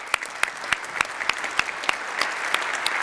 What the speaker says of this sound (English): So let's give them a warm round of applause,